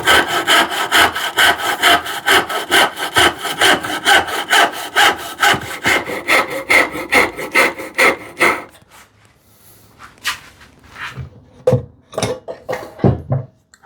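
Hand saw cutting poplar wood, a fast, steady series of close rasping strokes that stops partway, followed by a few slower, scattered scrapes and taps.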